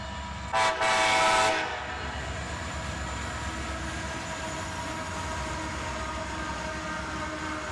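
Southbound freight train led by a single GE locomotive running long hood forward passes, a short loud horn blast early, then a steady rumble and rolling clatter of wagons continuing at moderate distance.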